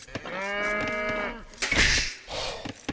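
Cows moo in a video game, a single long, steady, tonal low from one animal followed by a rougher, noisier lowing, close and clear with no one talking.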